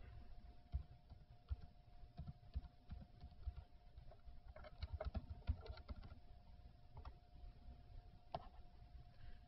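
Someone enters a username and password on a computer keyboard, producing soft, quick, irregular key clicks under a faint steady hum.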